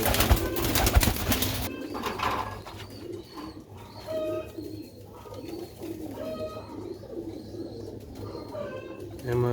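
Sialkoti quails and pigeons coo repeatedly in close range, soft rolling calls layered over the busy murmur of a bird market with people talking nearby.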